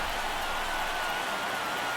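Steady rain falling on a baseball field in the video game MLB The Show, a dense, even hiss with no breaks, moderately loud and constant throughout.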